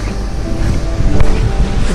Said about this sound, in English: You can see the river rushing underneath us.